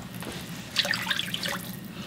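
Vegetable stock being poured into a pan on a home kitchen stove, a brief close liquid splash and trickle that swells and then settles, with no talking.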